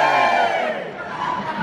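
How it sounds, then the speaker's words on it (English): A live audience at an adult comedy weekender at Pontins holiday park in Prestatyn cheers and whoops loudly, a dense continuous roar of many voices filling the room. "Give us a cheer if you're happy to be out in Prestatyn tonight"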